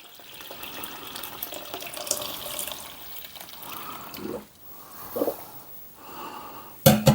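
Birch sap is poured into a pot, making a soft continuous trickling and splashing that comes and goes in a quiet room, with a sharper clatter near the end.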